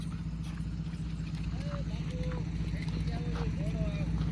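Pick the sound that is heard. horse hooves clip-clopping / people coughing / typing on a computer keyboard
horse hooves clip-clopping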